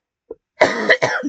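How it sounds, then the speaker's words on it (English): A single sick person coughs close to the mic: a small throat click, then a harsh two-part cough, with nothing else around it. "I think I need to take some medicine and see if I can't get the cough to chill a little bit."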